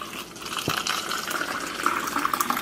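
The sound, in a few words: liquid being poured into a cup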